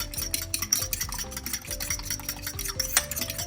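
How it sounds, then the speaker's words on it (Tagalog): Eggs with pepper and salt beaten in a cup for tortang talong, a rapid rhythmic clinking of a utensil against the cup's sides, close and steady with no talking over it. "At ibabati ko lang siya ng konti."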